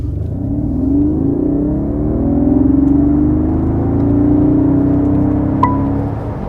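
The V8 engine of a 2025 Mercedes G63 AMG revs and accelerates with a rising, sweeping roar that swells and eases across several seconds, close and loud, with no voices over it.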